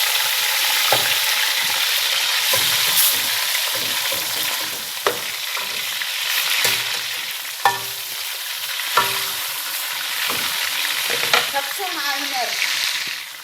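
Onions and chicken fry in a pan with a steady, close sizzle, broken by repeated scraping and tapping of a spoon as they are stirred.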